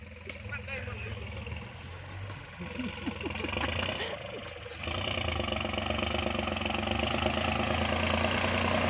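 A single-cylinder Kubota tractor engine runs in third gear while ploughing a small, overgrown field. Its steady, close chugging knocks grow louder and denser after a few seconds, with a voice heard briefly.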